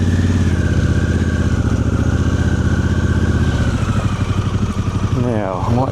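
Harley-Davidson Pan America motorcycle engine running steadily and loud, with a deep continuous drone that shifts pitch near the end as it revs and changes gear.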